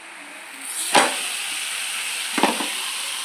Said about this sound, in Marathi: हे थालीपीठ मी बनवलं आहे ते आपल्याला तव्यावर टाकून घ्यायचं आहे